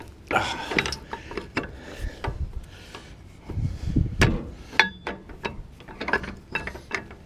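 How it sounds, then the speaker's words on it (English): Ratchet driving a bolt while a rear brake rotor is fitted on a 2007 Ram 1500: close, irregular bursts of clicking pawl strokes mixed with metallic handling clunks and scrapes, without talking. "I'm gonna put this bolt in"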